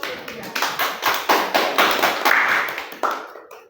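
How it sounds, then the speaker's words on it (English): A small classroom group claps for a student after her picture description, a dozen or so distinct sharp hand claps in a loose, uneven rhythm, close and fairly loud, with no talking. "Okay, give applause to Tira."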